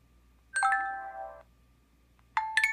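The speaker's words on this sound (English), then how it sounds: "These are notification sounds that are new here." Two short electronic chime tones from a Windows 10 Mobile phone notification, the first a sustained bell-like ring lasting about a second, the second a brighter two-note chime starting near the end, both clear and alone over faint background hum.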